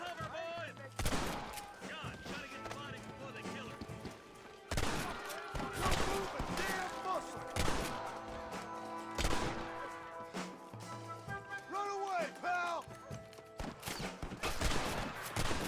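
Repeated gunshots and volleys crack through a Red Dead Redemption shootout in the town of Armadillo on PS4, loud and dense, with game effects and voices mixed under the firing.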